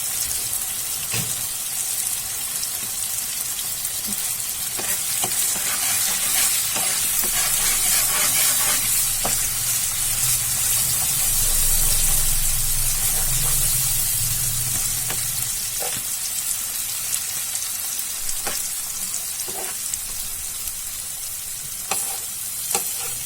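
Spices including Kashmiri red chilli and turmeric powder sizzle steadily in a pan for matar paneer while being stirred, with a continuous close frying hiss and intermittent scrapes and clicks of the spoon, no voices.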